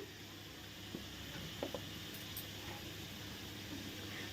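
Kofta frying with salt in a pan, giving a soft, steady sizzle throughout with a few faint clinks of stirring, quiet and distant.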